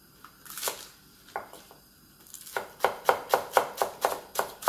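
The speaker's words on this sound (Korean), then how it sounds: "이제 파만 썰을게요" A knife chops green onions on a cutting board, a few scattered cuts at first, then a steady run of close, crisp, evenly spaced chops.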